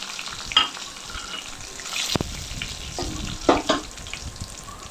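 Curry leaves and dried chillies hit hot oil for a beef fry, crackling in a steady sizzle with a few sharper pops and stirring scrapes, close and fairly loud with no voices.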